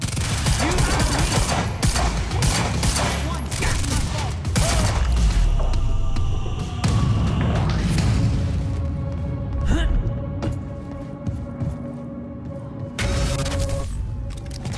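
Sustained gunfire from Monarch soldiers in the video game Quantum Break, with dense bursts of automatic fire and booms, loud and close, overlapped by speech throughout.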